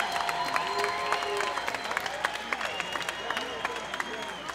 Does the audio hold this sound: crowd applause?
yes